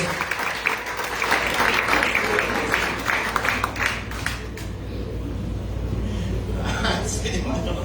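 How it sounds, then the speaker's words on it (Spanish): A church congregation applauds steadily with dense clapping, and voices call out over it before the clapping thins and fades. "dale fuerte el aplauso"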